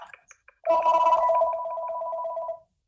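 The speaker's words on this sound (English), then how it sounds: "I got a phone call here" A telephone rings with an incoming call in a meeting room: after a few faint clicks, a loud, steady electronic warble sounds for about two seconds and then stops abruptly.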